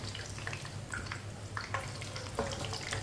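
Chicken pieces sizzling in a pan over a medium flame, a steady soft crackle with scattered faint pops and spatters, fairly quiet and with no voices.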